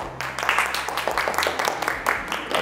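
Studio audience applause for a correct quiz answer, a burst of mid-distance clapping with talking mixed in.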